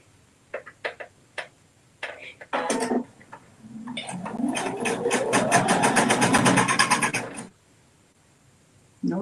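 A sewing machine stitches the seams of rainbow weave fabric placemats, its motor whirring up into a steady rapid clatter for a few seconds before stopping, preceded by a few short clicks and brief starts, close by.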